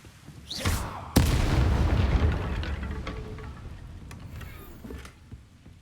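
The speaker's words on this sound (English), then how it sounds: "I'm sure exploding that inside a winery is fine." An explosion goes off inside a winery in the video game Hogwarts Legacy. A short whoosh leads into one sharp, loud boom, followed by a long, fading rumble with scattered debris sounds.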